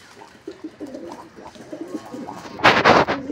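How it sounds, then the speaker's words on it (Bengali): A pair of pigeons on a rooftop, cooing and scuffling as they fight, with soft intermittent cooing building to a brief loud burst of flapping and scuffle near the end. "দুটো একদম জোড়া, 2 জোড়া পায়রা।"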